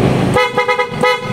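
A loud PIAA car horn on a Suzuki DA64 blares in a few short, sharp honks, bright and close.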